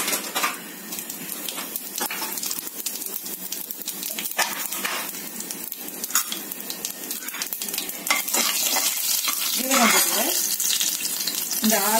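Cumin seeds crackle and sizzle in hot oil in a pan, a dense steady frying hiss close up, broken by frequent clinks and scrapes of a spoon against the pan.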